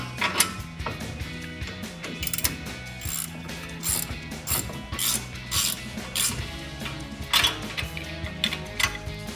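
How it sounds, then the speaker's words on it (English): A ratchet clicks in quick, uneven bursts while a socket and wrench tighten a tie rod nut on a 2021-2025 Ford F-150, with close metallic ratcheting and faint tool clinks, no talking. "you will want a 10 millimeter socket on a ratchet as well as your 21 millimeter wrench"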